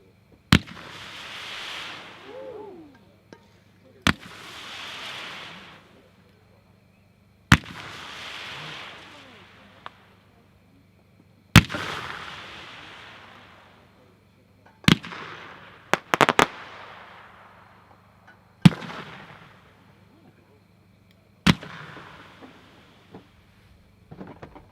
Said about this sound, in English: Number 6 are 50 millimeter mines, also 76 Pro.